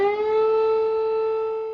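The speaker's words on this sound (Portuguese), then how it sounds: "as sirenes que alertam sobre ataques aéreos soaram 6 vezes." Air raid warning siren wailing in Ukraine during wartime attacks, one steady sustained tone, loud and unbroken, slowly fading slightly toward the end with no voices over it.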